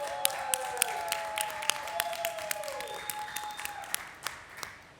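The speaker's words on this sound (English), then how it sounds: "everyone please give a round of applause to the brave children who have come to COP27" A small audience at a COP27 press conference in Egypt claps for children, sparse, distinct claps ringing out over a sustained tone that fades near the end.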